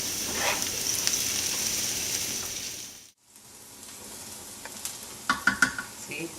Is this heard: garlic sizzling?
yes